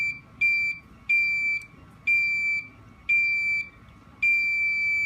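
Five loud, evenly spaced electronic beeps from a 555 timer oscillator circuit, each a shrill tone lasting about half a second with short gaps between, heard close with no talking.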